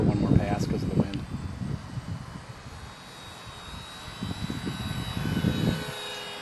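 A small Parkzone Ultra Micro T-28 model airplane's electric motor drones overhead, rising and fading as it passes, with people talking over it outdoors in wind.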